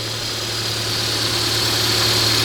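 A Volkswagen car engine idles steadily after a second start, with a low, even hum and faint vibration, close by, no voices; a hose clamp is leaking.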